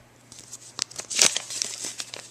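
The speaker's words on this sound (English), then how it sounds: "Let me open up the package." Plastic packaging of a bead kit is opened up close, with soft crinkling that builds into sharper crumpling and tearing bursts, then scattered crackles.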